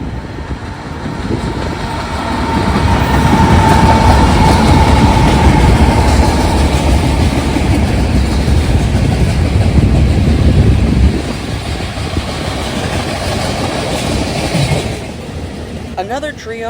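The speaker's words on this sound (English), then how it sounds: "Another trio of flags from the Union Pacific Railroad would be handling this expensive shipment of ethanol on CSX train B657" CSX freight train B657 hauling ethanol behind Union Pacific locomotives rolls past an overpass in Powell, Ohio, a loud sustained rumble with clattering wheels that eases off toward the end.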